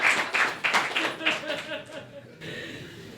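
A small audience at a political meeting claps in a short burst of rhythmic claps that fades within about two seconds, with talk continuing afterward.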